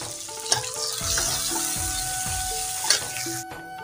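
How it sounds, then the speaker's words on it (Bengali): Tomato sizzles and fries in hot oil with a pinch of salt, a steady crackling hiss with occasional stirring scrapes and a couple of sharp utensil knocks against the pan. "তো এখানে টমেটোটা ভাজা হচ্ছে, ভাজতে একটু লবণ হালকা করে দিয়ে দিয়েছিলাম যাতে টমেটোটা গলে যায়।"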